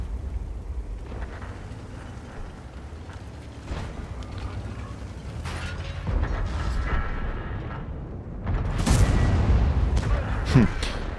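Deep booming blasts of game artillery over a constant mechanical rumble, with the heaviest explosions piling up loudly toward the end.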